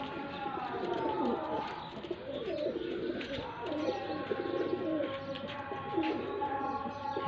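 Home pigeons in a training flock in Faisalabad, cooing repeatedly and close by with soft chirps mixed in, while someone talks over the birds.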